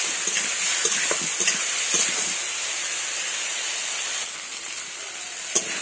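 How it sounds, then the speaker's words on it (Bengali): Fried potato and cauliflower stir-fried with spices for a Bengali fish curry, a steady loud sizzle and hiss with scraping stirs clustered early, then a quieter sizzle and one sharp clink near the end. "আলু ফুলকপির সাথে সব মশলা খুব ভালো করে কষিয়ে নেব 5 মিনিট।"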